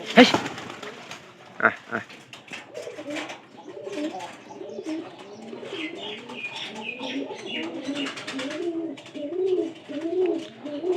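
A weak pigeon that has stopped eating, kept in a loft with other pigeons, gives repeated throaty coos in rising and falling phrases, close and clear, after a few sharp knocks at the start.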